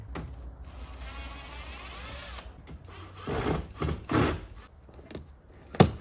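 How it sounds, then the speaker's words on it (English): Scraping and plastic clicks as an interior door handle is pried loose from a Holden VT Calais, a few sharp snaps and knocks toward the end, close by, with no talking. "Door handle comes off."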